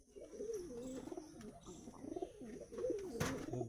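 Pigeons of high-flyer breeds such as Madrasi giribaz coo in a steady, warbling stream of low throaty calls, close and fairly loud, with brief faint chirps above and no talking.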